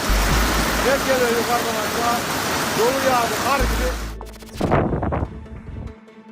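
Hailstorm meltwater rushing like icy rivers through streets in Turkey, a loud continuous flow of running water with traffic-like rumble underneath, then a brief pause and a few splashing surges near the end.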